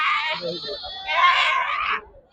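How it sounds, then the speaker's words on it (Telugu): Sirohi goats at a livestock market give a loud, close, drawn-out bleat followed by a second wavering call, with little else around them. "రాజస్థాన్ సిరోహి మేకలంట"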